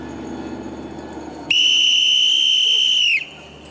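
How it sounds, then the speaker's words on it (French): A railway platform agent at a train station blows a whistle in one long, loud, steady piercing blast lasting under two seconds, which then cuts off abruptly. "Tu siffles et c'est tout."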